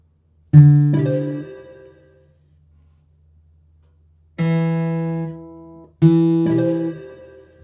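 Notes plucked on a Lava Me 3 guitar during ear training: a pair of picked notes, a pause, then two more distinct plucks, each ringing clearly and decaying, close and alone.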